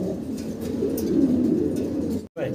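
Pigeons cooing at a pigeon market, a soft continuous murmur of several birds close by, with no talk.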